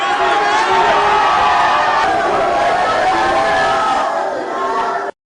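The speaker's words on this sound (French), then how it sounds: "le chef de l'État a salué la foule qui l'a fortement ovationné" A large outdoor crowd cheers and ovates a head of state after prayer, a dense, loud roar of many voices with shouts and whoops that carries for several seconds before cutting off abruptly.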